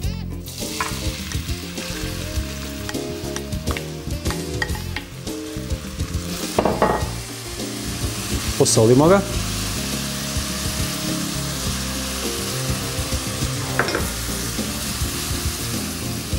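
Chopped red onion frying in olive oil in a pot over a fire, with a steady sizzle throughout and occasional stirring scrapes, plus a brief louder clatter near the middle.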